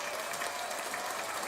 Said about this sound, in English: Let's do a round of applause for Survey here.